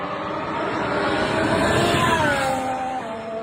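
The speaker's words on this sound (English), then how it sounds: "this sounds a lot like a 2025 engine, a lot more like a 2025 engine than the Audi." Cadillac Formula 1 car with a Ferrari engine on track, passing in a steady loud flyby with a broad engine roar and a slowly falling pitch over a few seconds, no talk.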